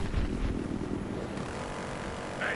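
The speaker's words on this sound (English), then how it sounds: "Hey, look, police chopper!" Police helicopter in a video game, its rotor and engine drone running steady and moderately loud for a few seconds with no talk over it.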